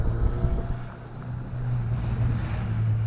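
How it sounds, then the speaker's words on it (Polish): Steady low rumbling wind buffets the microphone at a petrol station, a constant roar that swells slightly louder in the second half, with no voices. "Znowu zaczyna wiać."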